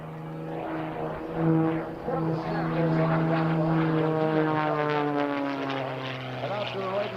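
Aerobatic propeller airplane performing at an airshow, its engine droning steadily and changing pitch as it climbs and maneuvers, with an announcer's commentary running over the sound throughout.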